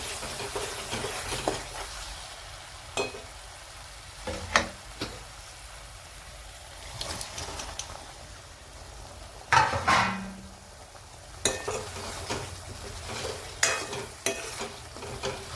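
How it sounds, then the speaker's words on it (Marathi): Cooked drumstick pods stirred into oil-separated masala in a pan, with a low sizzle and intermittent clattering spoon scrapes and knocks, close by with no talk. "आणि तेल सोडलेले मसाल्याने आपण आता जे शेंगा शिजवलेल्या ते याच्यात टाकू"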